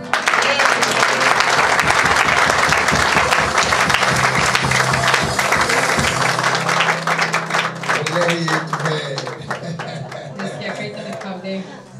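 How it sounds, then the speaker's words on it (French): Church congregation applauding and cheering loudly for the Lord, dense clapping and crowd noise with voices mixed in, fading somewhat toward the end. "Acclamons le Seigneur."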